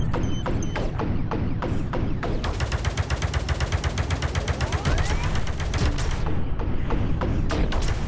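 Blaster fire in the VR shooter Space Pirate Trainer: rapid, evenly spaced shots in long sustained volleys, close and loud, over a steady low background rumble.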